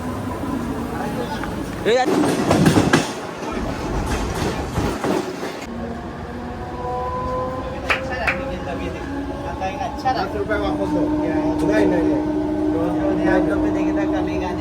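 A Mumbai local train from CST to Bandra rumbles along the rails with a steady rolling clatter, loud bursts early on, while people talk over the noise.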